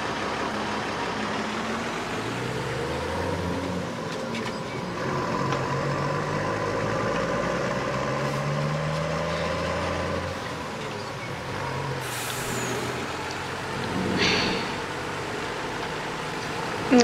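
A Home Depot delivery truck drives along, its engine a steady mid-low hum with shifting tones as it moves. Someone talks over it now and then, and a short clatter comes near the end.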